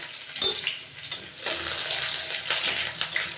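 Garlic and onion frying in a pan, with metal utensils clinking and scraping against the pan over a steady sizzle, close and fairly loud.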